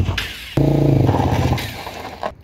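A Vortx 200 motorcycle engine kicks in abruptly with a loud, steady harmonic rumble that holds for about a second, then eases off and fades toward the end.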